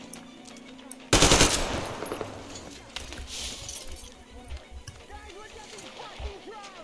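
A loud, sudden burst of machine gun fire in the video game Metro Exodus, followed by scattered clinks and glassy breaking debris over a lingering rumble.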